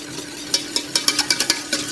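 Sugar-pectin mixture stirred into heated cherry purée, a quick series of soft scraping, clicking strokes about every fifth of a second, close and fairly quiet.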